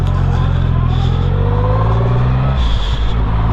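A Triumph Rocket 3 motorcycle pulling away from traffic lights in the dark, its engine note rising in a loud, close, rumbling surge and then easing off, with wind noise and a voice faintly underneath.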